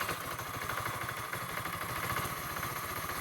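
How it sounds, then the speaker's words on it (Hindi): A motorcycle engine idling after a timing chain repair, a steady rapid low thumping with light mechanical clatter, close and continuous with no speech. "और माशाल्लाह से हमने बाइक को स्टार्ट कर लिया"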